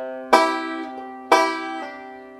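Banjo plays a short phrase from a song that includes a pull-off, with two bright picked attacks about a second apart, each followed by a softer hammered or pulled note, ringing close and clear.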